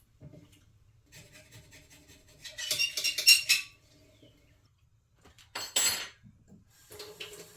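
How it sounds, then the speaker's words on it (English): A spoon scraping stuck specks off a frying pan, with two bursts of harsh metallic rasping between quieter taps and faint scrapes, close up with no talking. "I had to get a spoon out to get the rest of the stuff off the pan"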